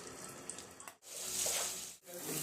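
Paneer cubes sizzle loudly in hot oil in a kadai, a steady broad hiss that swells and continues with two brief dips, no voices present.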